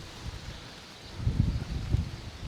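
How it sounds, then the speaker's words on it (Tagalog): Strong outdoor wind buffets the microphone in low rumbling gusts, quieter at first and then swelling into heavier bursts. "Malakas ang hangin."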